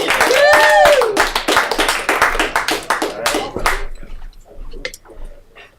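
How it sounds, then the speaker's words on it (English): An audience at a live comedy show claps and cheers for a comedian, a dense burst of clapping with whoops over it at first, then thinning out and fading as the room quiets. "Give a round of applause for Andrew Tavin."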